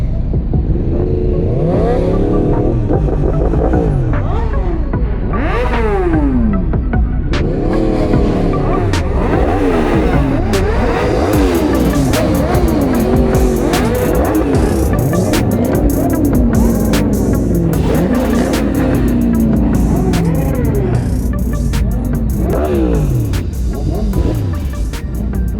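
Supercars including Nissan GTRs and Audi R8s drive past at a meet, loud engines revving and rising and falling in pitch over and over, layered and continuous and close to the microphone.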